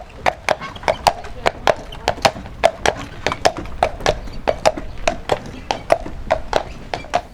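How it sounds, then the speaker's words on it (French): Horse hooves clip-clopping steadily on a road while pulling a family caravan, a brisk, even walking rhythm of sharp close knocks over a soft rumble of wheels. "on reprend notre roulotte et on rentre chez nous à cheval"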